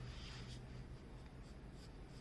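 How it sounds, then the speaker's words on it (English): Graphite scratching of a soft 4B pencil shading across drawing paper, a steady close rasping stroke texture running continuously and quietly throughout. "Now I'm going to use my 4B pencil and darken this all up."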